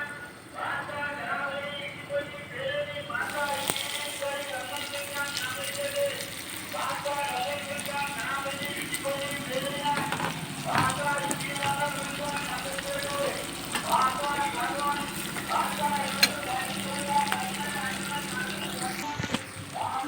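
Chicken shallow fries in a pan, a continuous crackling sizzle with scattered pops and occasional utensil clinks, heard close up while a voice talks over parts of it.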